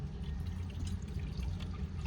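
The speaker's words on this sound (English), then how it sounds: "what we're going to do right now is that we are going to put water" Water runs into a stainless steel teapot, a steady low gurgling pour with faint bright splashes, quiet and close, with no talking.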